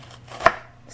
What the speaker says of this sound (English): I'm just going to kind of rough chop this onion